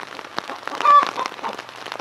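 Steady rain pattering on a surface, a soft continuous hiss with scattered drops, with faint sounds of hens, roosters and chicks or voices mixed in.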